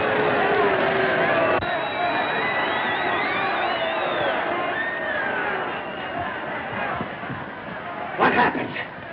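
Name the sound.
boxing crowd cheering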